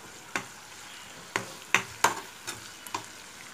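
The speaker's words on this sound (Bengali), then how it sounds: "এখানে পেঁয়াজ বেরেস্তা করতেছি" Onions fry in oil toward golden beresta, a continuous soft sizzle punctuated by half a dozen distinct spatula scrapes and clinks against the pan at irregular intervals, close and moderately loud.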